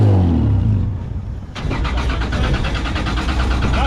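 A Nissan 180SX with a swapped Toyota 2JZ engine cranks and catches, rumbling loudly before firing into a rough, steady idle close by, with no talking.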